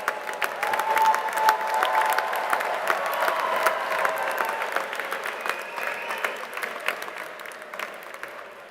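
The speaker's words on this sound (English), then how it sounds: "Round of applause" A large audience applauds at a university commencement ceremony, a dense, sustained wash of clapping that holds steady for several seconds before gradually thinning and fading.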